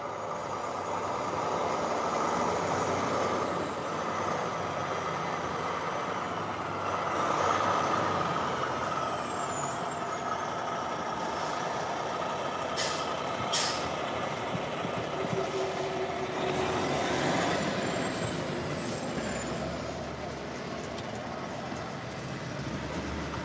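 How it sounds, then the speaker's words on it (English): A semi truck drops its trailer, with a steady engine rumble, hissing air-brake bursts and clanking through the whole stretch, near and fairly loud, with no talking. "he's dropping the trailer over here now"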